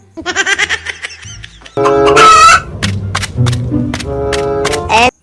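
Cartoon chicken clucks in a rapid run of short squawks in an Ethiopian animated comedy, then a louder burst of mixed calls, honking-like notes and laughter-like sounds follows, loud and close.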